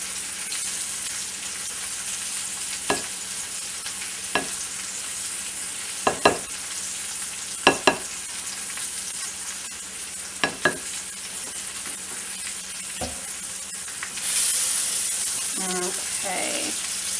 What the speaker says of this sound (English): kind of stir that up. Make sure all the rice is lovely coated.